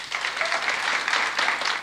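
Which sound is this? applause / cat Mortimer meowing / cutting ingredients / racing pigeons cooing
applause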